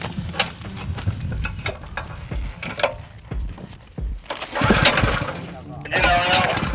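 Engine of a water pump beside a lake being started, with irregular cranking bursts and sputters that catch into a rough running noise, while people talk nearby.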